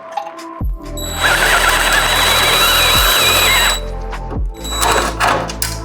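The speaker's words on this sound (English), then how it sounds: "If you got a riv nut that's spinning and you're trying to drill it out" A power drill whines at high speed for a few seconds, drilling out a spinning rivet nut on a Nissan GT-R, stopping and restarting with sharp mechanical clunks between runs, loud and close.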